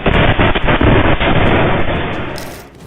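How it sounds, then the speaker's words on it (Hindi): An explosion tears through the Nowgam police station in Srinagar, Kashmir: a loud, close, rumbling blast with repeated crackling bursts that slowly fades away, with no talk. "कश्मीर के नौगाम पुलिस स्टेशन के अंदर वो धमाका जिसने पूरे सिस्टम को हिलाकर रख दिया"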